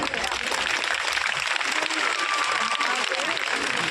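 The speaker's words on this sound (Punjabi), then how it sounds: "ਤਾੜੀਆਂ ਦੇ ਨਾਲ ਸਵਾਗਤ" Audience applause welcoming a guest at a government girls' school event in Sahnewal, steady broadband clapping filling the whole stretch at moderate loudness, without a clear rise or fade.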